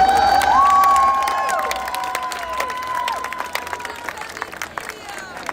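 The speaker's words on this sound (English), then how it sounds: "I applaud them all today for being here." Rally crowd applauding and cheering outdoors, a swell of clapping and shouts mixed with whistle-like tones early on, fading to scattered claps and voices as the noise thins toward the end.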